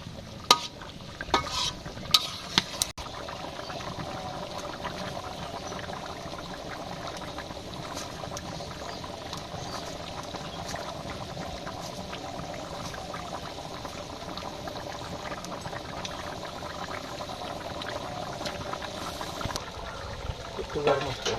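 Curry cooks in a pan on a village stove, bubbling and faintly sizzling in a steady wash while a spoon scrapes and clacks a few times early on, with some quiet talk at moments.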